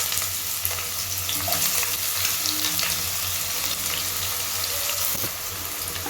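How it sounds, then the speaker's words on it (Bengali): About a cup of chopped onion frying in oil in a pan for chickpea bhuna, a dense, steady hissing sizzle with light stirring, close and fairly loud, no voices. "আর পেঁয়াজ কুচিগুলো আমি দিয়ে দিচ্ছি"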